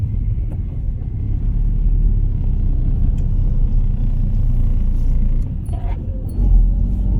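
A car climbs a foggy mountain road toward Pelling after a gear change, its engine a steady, loud low rumble with road noise throughout and no clear revving.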